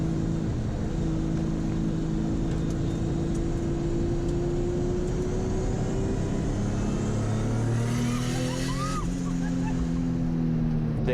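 A Mazda Miata ND RF engine drones steadily, then revs up sharply near the end with a rising whine, loud and close throughout.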